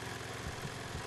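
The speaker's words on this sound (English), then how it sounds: "Oh, there's a lawnmower." A lawnmower engine from the video game Hello Neighbor runs steadily at a low, even idle, a continuous rumble with no talk over it.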